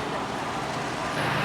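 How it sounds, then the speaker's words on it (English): A large party bus idles or drives, giving a steady, broad engine and road rumble that stays level throughout, close and fairly loud. "And here's the bus."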